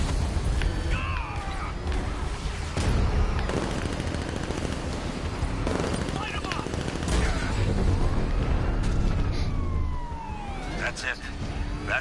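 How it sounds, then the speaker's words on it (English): Rapid machine-gun fire and gunshots rattle continuously at a Batmobile tank in Batman: Arkham Knight, mixed with siren-like wails, engine rumble and game effects throughout. "Stop shooting me!"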